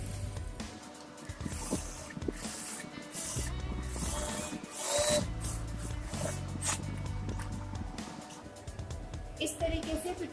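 Sewing machine stitching a Nehru kurta, with short bursts of rapid mechanical clatter starting and stopping close by, broken by pauses and small clicks of the mechanism.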